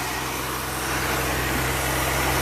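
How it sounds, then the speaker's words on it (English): A 1962 Ford Falcon inline engine idles steadily just after its first start in years, a constant close-up hum with no voices. "And listen to that motor. Sounds pretty good."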